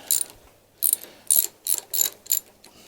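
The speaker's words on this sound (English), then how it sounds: "the longest one I've got is probably actually my torque wrench." A torque wrench ratchets on a bolt of a Triumph Sprint 900 motorcycle, close and loud. Five or six quick bursts of rapid clicking come in an uneven rhythm with short pauses between them, and no one speaks.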